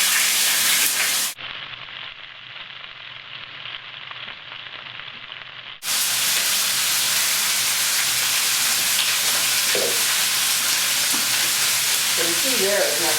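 Food caramelizes in a very hot, smoking pan with loud, continuous sizzling and frying, briefly muffled in the middle before returning at full strength, with faint stirring clicks near the end.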